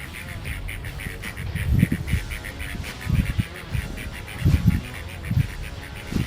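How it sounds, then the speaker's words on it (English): A couple of ducks quack repeatedly outdoors near a hotel, giving a series of short nasal calls in uneven bursts at close to moderate distance. "couple of ducks here."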